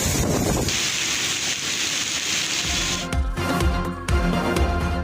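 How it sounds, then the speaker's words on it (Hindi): Heavy rain and strong, stormy wind during a storm in Lahore, heard as a dense, continuous roaring hiss with gusty buffeting and rumbling on the microphone throughout, loud and close. "बारिश भी हो रही है।"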